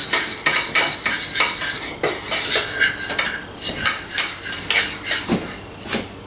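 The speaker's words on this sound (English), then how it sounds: "So you gotta be careful and keep stirring as the flour will stick to the bottom of the pan" Fork stirring flour gravy in a pan for an envelope pot roast, with rapid close scraping and clinking of metal on the pan bottom in a continuous uneven rhythm, loud and alone.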